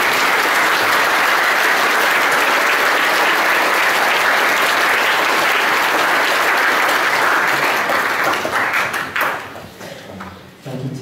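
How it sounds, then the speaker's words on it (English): Loud, sustained applause from an audience at a Year 10 school prize giving, steady dense clapping for about nine seconds before thinning out and fading into a few scattered claps and faint murmurs. "I think everyone deserves another round of applause."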